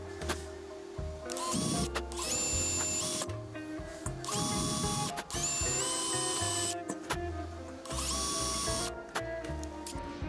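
A drill bores pilot holes into a motorcycle fender while fitting a Custom Dynamics curved LED license plate, in several loud whirring bursts of a few seconds each with a steady mechanical hum between them and no speech.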